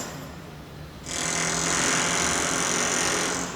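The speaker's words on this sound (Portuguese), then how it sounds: "alguém furando alguma coisa" A power drill or hammer drill starts up nearby after a quiet second and runs loud and continuous, a harsh steady grind with no speech.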